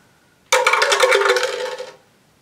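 Dice shaken and dropped into a container during a family math game give one short burst of bright clattering rattle, close and loud, lasting about a second and a half before stopping.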